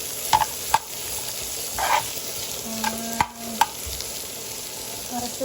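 Onions and sweet peppers cook and are stirred in a pan, giving a low steady sizzle broken by a few sharp clicks and scrapes of the utensil, close by and with no talking.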